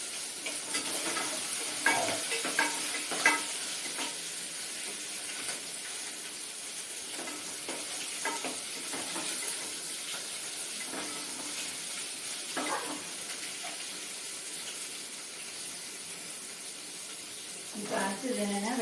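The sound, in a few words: sautéing sambar onions for vegetable sambar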